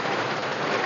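Steady, dense rain pattering on an old house roof, a continuous hiss of drops with no voices.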